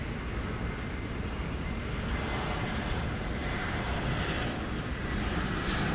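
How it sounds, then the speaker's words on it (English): A Frontier Airlines jet arriving from Las Vegas at DFW Airport at night, its engines giving a steady, moderately loud drone with no voices over it. "we got a Frontier flight coming in from Las Vegas"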